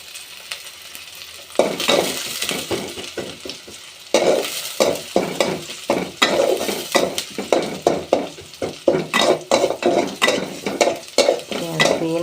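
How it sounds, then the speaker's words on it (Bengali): Onions being stirred and fried in oil in a pan, a steady sizzle broken by quick, rhythmic spatula scrapes that continue loudly and close throughout. "পেঁয়াজ দিয়ে নাড়াচাড়া করছি।"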